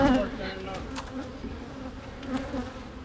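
Wild bees buzz steadily and close during a bee removal at a large house, a dense droning swarm with individual bees whining past.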